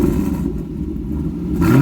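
A Chevrolet Camaro SS V8 fitted with high-flow catalytic converters rumbles close by on jack stands, dipping briefly and then swelling into a short rev.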